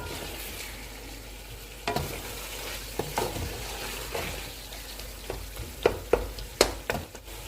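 Softened, peeled ingredients stirred in a pan for beef karahi, quiet sizzling broken by irregular spoon clinks and scrapes that grow sharper and more frequent near the end, close and without talk.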